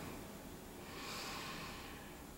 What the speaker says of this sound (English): if you are familiar with Ujjayi breathing, breathing through the back of the throat, feel free to take that here